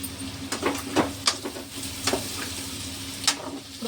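Potato pieces and green chilies fry in a pan, a continuous close sizzle broken by several sharp clinks and scrapes of stirring at irregular intervals.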